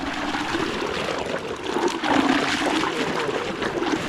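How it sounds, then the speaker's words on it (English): Heavily aerated water gushes from a hydroelectric pipe outlet, a continuous, close, frothy rush with bubbling surges that swell and ease. "That's very aerated water coming out now."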